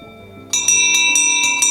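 A small coachman's harness bell, once used on horse-drawn coaches along a Siberian postal road, is shaken in about six bright, closely spaced rings with sustained metallic overtones, loud and near.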